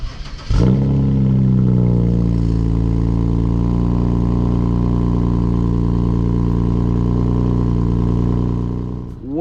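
BMW 335i engine barking to life with a sharp rev, then settling into a loud, steady idle drone that holds for several seconds before fading at the end, with no talking.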